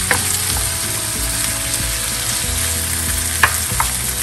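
Mixed vegetables cooking in a pan for asparagus pulao, a loud continuous sizzle close up with a few sharp spatula clicks.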